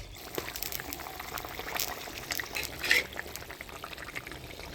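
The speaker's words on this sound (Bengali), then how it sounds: "আজকে ঝোলটা একদম পাতলা হবে কিন্তু এবার দিয়ে দিব ভাজে রাখা পাবদা মাছ" Fried pabda fish goes into a thin, watery curry gravy in a Bengali village kitchen, giving soft splashing and bubbling liquid sounds with a small splash near the end, all fairly faint.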